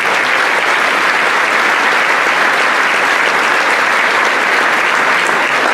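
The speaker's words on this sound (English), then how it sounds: "So give yourself a hand." A large audience applauds at a Louisville football kickoff luncheon in a Marriott ballroom, with dense, steady clapping that holds at full strength for about six seconds and no speech over it.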